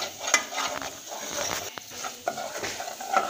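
Date halwa fries in ghee while a spoon stirs and scrapes the pan, giving soft irregular scrapes and clatters with a gentle sizzle, close and moderately quiet.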